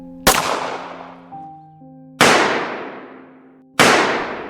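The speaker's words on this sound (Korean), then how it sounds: "허리춤에 숨겨 들어갔던 권총 2자루를 꺼내 양바이펑의 심장에 총을 쐈습니다." Pistol shots fired repeatedly as a sound effect, three sharp loud bangs spaced a couple of seconds apart, each with a long ringing decay and no talking.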